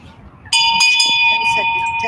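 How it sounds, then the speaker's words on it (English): The Peace Bell rings at an annual equinox ceremony, one sharp bright strike followed by a sustained resonant ringing tone that carries on, loud and alone. "This bell's ringing"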